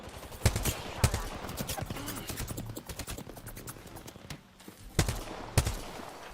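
Gunfire aimed at the player in a video game: sharp, fairly close shots arriving in irregular bursts with rattling clusters between them, over a busy game background.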